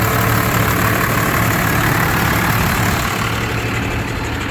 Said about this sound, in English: but the motor is running good.